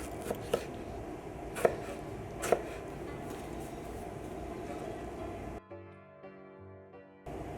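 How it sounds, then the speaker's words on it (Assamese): A knife chops a tomato into small pieces for a mixed vegetable salad, giving a few sparse, sharp taps on a board over steady background noise, then a brief tonal musical passage. "এটা বিলাহীও সৰু সৰুকৈ কাটি লৈছোঁ।"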